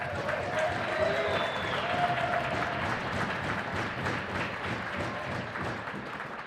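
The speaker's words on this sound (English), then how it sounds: "Fans, let's unite in one last round of applause for the class of 2023." A crowd at a high school hockey senior ceremony applauds in a steady, dense wash of clapping that holds at an even level throughout.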